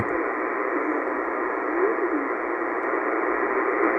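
Shortwave radio static near 5450 kHz during a nighttime band scan, a steady hissing band of noise with a faint wavering tone buried in it, constant and unbroken.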